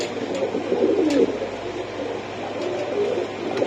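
Pakistani Teddy high-flying pigeons coo softly and repeatedly at close range over a low background hum, with a few faint clicks.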